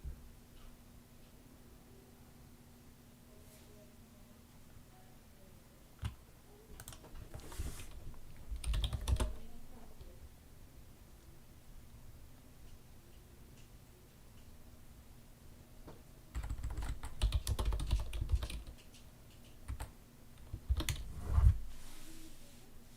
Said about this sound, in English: A lot of typing. Must be a big, exciting message.